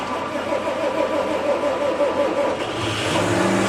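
A 6175 tractor engine used for snow removal runs and revs up close by, a steady mid-pitched drone that rises in pitch and strengthens toward the end.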